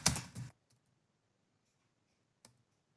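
A quick, close burst of clicky computer keyboard typing, then silence and one last isolated keypress.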